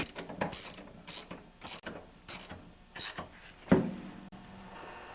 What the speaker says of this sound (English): don't forget to put the other bolt on the other side and tighten these up